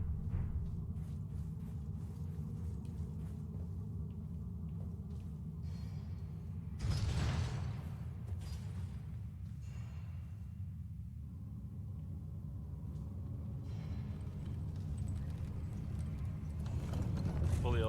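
Elevator mechanism in Elden Ring, a steady low mechanical rumble with clanking, grinding movement running throughout, swelling briefly in the middle and again near the end.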